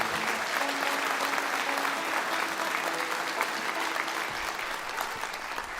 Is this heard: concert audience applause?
yes